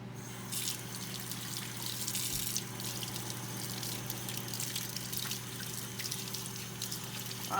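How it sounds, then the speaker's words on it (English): Tap water runs steadily into a sink during handwashing, a continuous close hiss and splash that holds for the whole stretch with no talking. "I'm gonna wash my hands."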